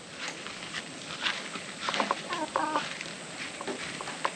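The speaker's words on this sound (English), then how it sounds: "hello, little chicken" A chicken clucks among pineapple plants on a tropical fruit farm in Far North Queensland, Australia, giving several short, fairly close clucks and calls over faint outdoor background noise.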